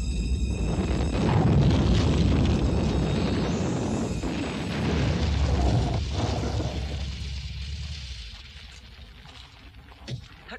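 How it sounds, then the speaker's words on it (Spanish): Firecrackers go off in a dense, roaring burst of crackling and booming that swells and rumbles for several seconds, then fades into a quieter tail with a faint whistle and a final small pop. "¿A qué viene eso de jugar con petardos?"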